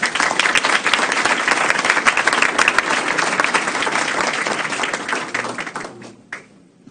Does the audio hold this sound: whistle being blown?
no